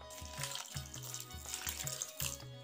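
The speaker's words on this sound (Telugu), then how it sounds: "ఇది మునిగే వరకు వాటర్ వేయాలి." Water poured from a small vessel over grated bottle gourd in a little bowl, splashing in a few uneven bursts up close with short pauses between pours.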